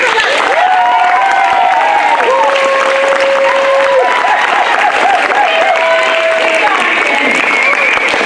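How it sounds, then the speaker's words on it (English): Audience applause for the kids after a Wizard of Oz show, steady crowd clapping throughout with a few voices calling out over it. "So, big round of applause"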